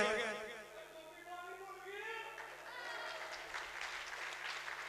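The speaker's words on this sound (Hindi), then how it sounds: "जी भरपूर तालियां अनवर पटोला साहब के लिए।" Hall audience applauding a comedian at a Punjabi comedy show, a broad steady wash of clapping that starts under a voice and carries on alone after the talk fades.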